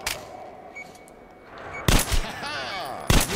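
Gunfire in the Metro Last Light video game, two sharp loud bursts, one near the middle and one near the end, with a quieter stretch and faint background sound before the first.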